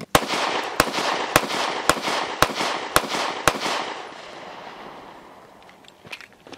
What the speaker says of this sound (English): this is really a flat shooting gun, very flat, whether you're shooting it slow or rapid